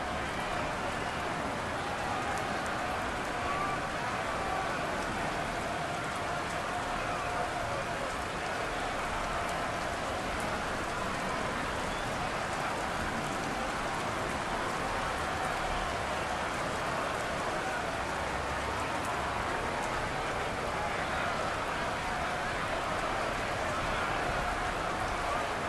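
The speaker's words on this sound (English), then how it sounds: "The rain set to continue as we are underway in the second half." Steady, even rain hiss from Madden NFL 23 during a simulated Buccaneers vs Browns football game, a constant wash of falling rain filling the whole stretch with no breaks.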